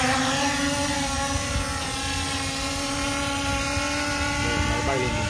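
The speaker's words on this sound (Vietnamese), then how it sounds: "Bây giờ sẽ bay lên này kiểm tra chức năng bay của mình." A camera drone (flycam), an Arno SE, takes off and flies, giving a dense, steady whirring drone that runs for several seconds and masks a faint voice underneath.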